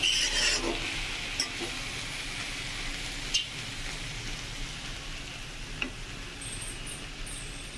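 A vegetarian mixed-vegetable curry is stir-fried in a pan, giving a soft, steady sizzle with occasional scraping and knocking of a spoon, fairly quiet and close.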